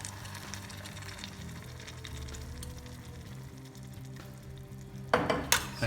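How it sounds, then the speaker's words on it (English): Passata poured into a hot pan of garlic, with a soft continuous sizzle and frying crackle, then a sharper burst of spitting and hissing near the end. "Now we add the passata."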